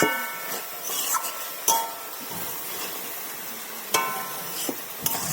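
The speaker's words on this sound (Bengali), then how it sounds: "এটার মধ্যে চুনো চিংড়িটা আমি দিয়ে দেবো। দিয়ে ভালো করে নাড়িয়ে দেখুন বন্ধুরা" Small shrimp stirred in a pan of sizzling winter vegetables: a steady sizzle with a few sharp metallic clinks of the spoon against the pan, close and moderate, no voices.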